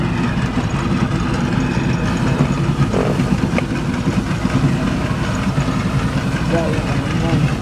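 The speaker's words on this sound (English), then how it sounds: "Nice little single-cylinder engine, a popular mark for Evelyn, so they sold lots and lots of these." An 8-ton Evelyn single-cylinder road engine runs at an old time rally, giving a steady, close, low mechanical chugging with a continuous rumble that holds evenly throughout.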